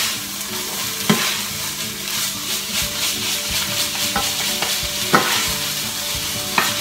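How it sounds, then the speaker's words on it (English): Sauce bubbling and sizzling in a hot pan as it is stirred, a steady frying hiss punctuated by a few sharp clinks and scrapes of the utensil against the pan. "And then you just kind of stir it up and it makes this nice sauce"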